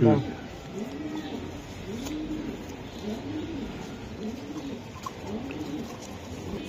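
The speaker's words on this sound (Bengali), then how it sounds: "অনেক সুন্দর কবুতর।" Racing pigeons coo in a repeated, rhythmic series of soft, rolling calls at a moderate distance, steady under low background noise.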